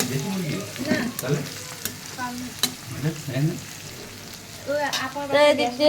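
Chicken roast cooking in a hot pan on a home stove, close sizzling and frying with intermittent stirring scrapes, while voices chat in the background.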